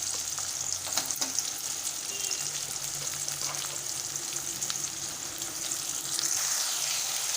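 Chopped tomato fries in a pan with onions for a Tamil-style senai kilangu (elephant yam) fry, giving a steady, close sizzle with occasional stirring scrapes and no talking.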